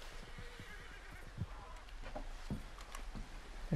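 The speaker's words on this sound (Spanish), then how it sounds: "Creo que escuché un caballo." A horse in the video game Red Dead Redemption 2 whinnies a few times over a steady low background rumble, fairly faint and distant, with scattered soft thuds.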